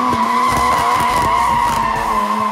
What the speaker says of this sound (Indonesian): Banyak banget driftingnya, ada yang figure 8.